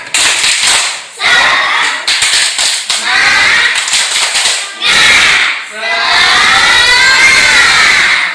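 A classroom of pupils doing a spirited rhythmic clapping chant, loud, close claps in quick patterned bursts with short pauses, mixed with children's shouts and cheering voices.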